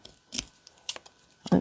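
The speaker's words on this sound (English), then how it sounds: "And cut this edge off." Scissors snipping the edge off paper for a junk journal, a few crisp close cuts spaced across a short moment, ending with a louder rustle.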